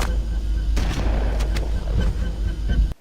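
Dense shotgun blasts against the Flood in Halo, a rapid run of loud, close booming shots with rumbling tails that cut off abruptly at the end.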